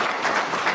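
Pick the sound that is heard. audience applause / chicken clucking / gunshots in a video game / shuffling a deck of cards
audience applause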